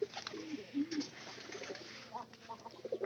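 Pigeons in a loft coo softly in short, repeated throaty phrases, several birds overlapping at close range with faint rustling between calls.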